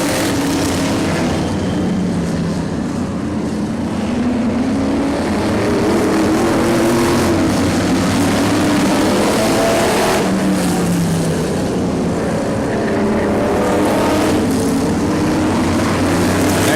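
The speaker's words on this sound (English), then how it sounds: "Big bottleneck of cars as Preston Rue tries to go around the outside of Jeff Allard" Race cars roaring around a dirt track, a loud, continuous wash of engine noise rising and falling as the pack bunches up and passes, with no voices on top.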